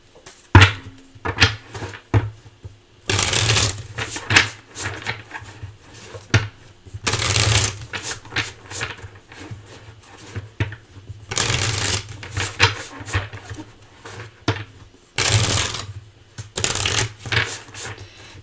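A deck of tarot cards being shuffled in repeated close, crisp riffling bursts separated by short pauses, with no talking.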